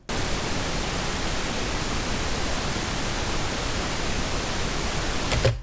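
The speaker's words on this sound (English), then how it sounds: "So with the pink noise that I have right over here," Pink noise test signal used in a trance production session, a continuous, steady hiss running at even level throughout, cutting off abruptly at the end.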